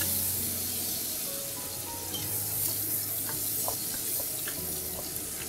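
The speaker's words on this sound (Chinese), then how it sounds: "稍微炒一下。" Dried shrimp and minced garlic crackle and hiss in a hot wok, making a steady, dense sizzle with light scraping and stirring clicks scattered through it.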